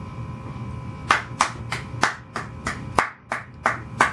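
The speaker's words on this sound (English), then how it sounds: "I'd like for a warm applause for my buddy, Vem." A few people clap for a guest at the start of an interview, with about ten spaced, fairly sharp claps over a low steady hum.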